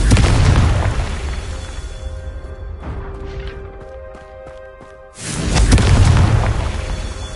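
A Confringo spell explodes in the Hogwarts Legacy video game, a loud booming blast that decays over several seconds and is followed by a second heavy burst.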